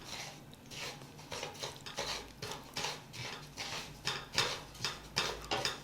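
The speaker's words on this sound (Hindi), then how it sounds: "तिल हमने डाल दी। इसको हल्का सा हमने बस रोस्ट करना है" Sesame seeds dry-roasted in a pan with no oil and stirred steadily, giving a close, rhythmic scraping and light rattling of a spoon against metal with a soft patter of seeds, no voices.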